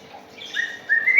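A white-rumped shama sings close by, giving a few bright, rising whistled notes and chirps that grow louder toward the end of a short phrase, with no talking.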